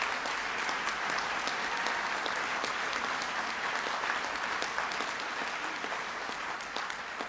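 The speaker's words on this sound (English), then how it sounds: "so please give them a big round of applause." Steady, dense applause from a large audience at an outdoor conservation initiative event, continuous clapping at moderate level with no pauses throughout.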